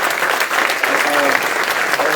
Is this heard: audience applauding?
yes